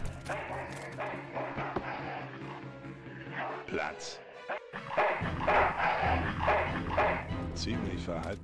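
Dog barking in the video game Full Throttle Remastered, several sharp barks and yips with a whimper, heard under German commentary talking over game sounds.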